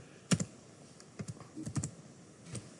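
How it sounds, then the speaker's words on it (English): Someone types on a computer keyboard, entering a line of Apex code in short, irregular bursts of quiet key clicks at close range, with no talk during the typing. "let me type the statement here"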